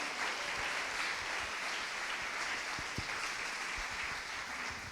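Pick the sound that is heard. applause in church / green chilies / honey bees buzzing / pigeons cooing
applause in church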